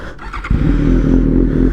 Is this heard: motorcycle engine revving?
yes